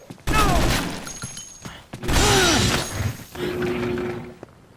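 Loud gunshots in the Dead Rising video game, a few sharp blasts with crashing, shattering tails, spaced a couple of seconds apart amid game noise.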